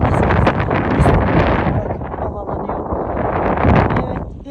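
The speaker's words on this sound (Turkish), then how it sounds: "rüzgar var" Strong wind near Masada mountain buffets the microphone with a continuous low roar and rumble, loud and steady throughout.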